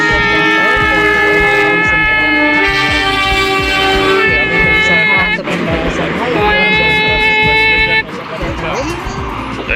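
A train passes close by in Bandar Lampung on a cool afternoon, its horn sounding loud, long and tonal in several blasts over the rumbling of the wheels.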